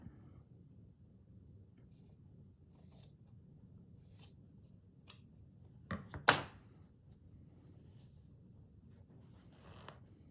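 Scissors snip through a piece of flower-print fabric during a slow-stitch embroidery project, giving a few quiet, separated cuts with one sharper, louder snip near the middle over a low, steady background hum.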